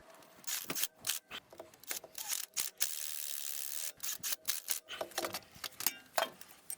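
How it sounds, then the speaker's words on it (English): Bolts on an Audi/VW CV axle are snugged up with a ratchet, producing rapid close clicking bursts and metallic ticks in uneven runs with brief pauses. "So I'm just snugging all of them up."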